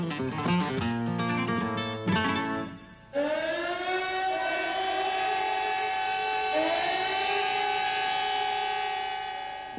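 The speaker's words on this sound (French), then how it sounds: "Lorsque les sirènes ont sonné" A loud wailing warning siren in Barcelona holds long rising and steady tones, preceded by a brief choppy burst, sounding continuously for several seconds.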